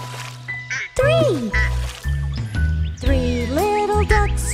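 A children's song about little ducks, with a sung line imitating a mother duck's quacking over bright backing music; the voice mimics the repeated quacks rather than a real duck.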